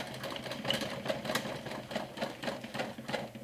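A sewing machine stitches through the lining of a backpack with a half-inch seam allowance. It runs in short, quiet, rhythmic bursts, close by and heard alone.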